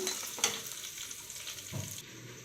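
Mutton boti frying in a pan as chili powder is tipped in and stirred, a steady close sizzle with a few scraping stir strokes and no talk.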